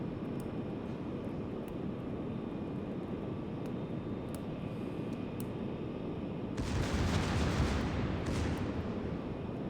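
Secondary battery guns of the battleship Atlántico firing in a naval video game: a constant roaring wash with faint ticking shots, then a sudden louder, heavier burst of booming fire near the end.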